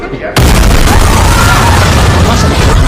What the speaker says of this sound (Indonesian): tiba-tiba saja meledak